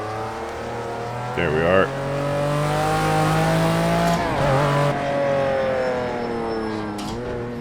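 A race car engine in a racing sim game revs steadily and loudly, with the pitch shifting through gear changes and a brief squeal, while someone talks over it.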